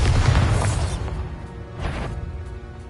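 Bombarda blasting spell in Hogwarts Legacy: a loud, close booming burst that decays, followed by a couple of smaller crashing impacts and a lingering rumble.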